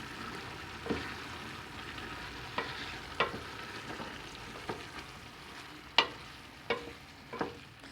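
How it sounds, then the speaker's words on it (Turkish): Okra with chicken and tomatoes is stirred in a pot: quiet, scattered scrapes and clinks of a spoon come at irregular intervals over a faint simmer, with no voices. "Şimdi bamyalarını ekleyeceğim. Güzelce karıştırıyoruz."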